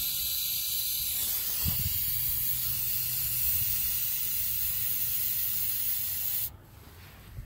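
Ether sprayed into a Ford Explorer 4.6 engine gives a loud, steady hiss that runs unbroken for several seconds, with a brief thump early on, then cuts off abruptly into quieter background.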